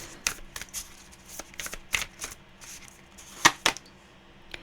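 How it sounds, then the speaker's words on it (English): A tarot card deck being shuffled by hand, with soft riffling bursts and sharp card snaps scattered irregularly over a few seconds, fairly close and quiet, with no talking. "it's quite a difficult deck to shuffle"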